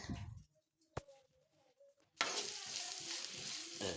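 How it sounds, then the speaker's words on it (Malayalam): Onions sautéing in oil in a pan for an egg curry, a dense sizzle that begins abruptly after a quiet stretch with a single sharp clack, steady and close, with no one speaking. "പാൻ അടുപ്പത്ത് വെച്ച് അതിലോട്ട് ഓയിൽ ഒഴിച്ച് സവാള ഇട്ട് നല്ലപോലെ വഴറ്റിയെടുക്കുന്നുണ്ട്"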